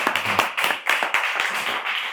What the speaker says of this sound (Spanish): te damos un fuertísimo aplauso por el premio